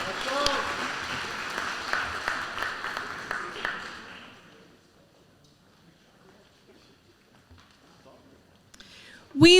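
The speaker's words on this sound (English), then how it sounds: "Let's give these students another round of applause." Applause for students at a high school senior awards ceremony: a burst of clapping that fades away after about four seconds into quiet room tone, with a voice at the very end.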